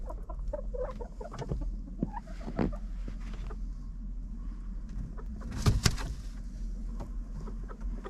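Chickens in their run at feeding time, several birds clucking in short scattered calls over a low steady hum, with a louder burst of cackling midway.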